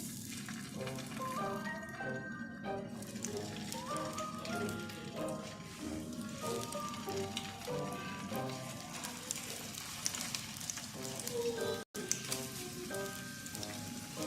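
Shami kebabs fry over a low flame in a greased non-stick pan, giving a steady soft sizzle throughout, with a faint musical tone layered over it and one brief dropout near the end.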